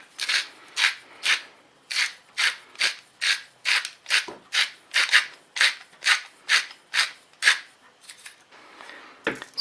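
A lump of kala namak black salt is grated by hand, producing about twenty close, even rasping strokes in a steady back-and-forth rhythm.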